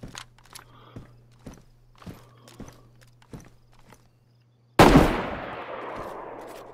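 Footsteps crunch at an even pace, fall silent, then a single loud gunshot cracks close by in the survival game DayZ, its echo ringing out and fading slowly.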